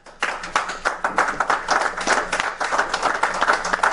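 A church congregation bursts into applause for the Lord, a dense wash of many hands clapping close and steady for the whole stretch, with faint cheering mixed in.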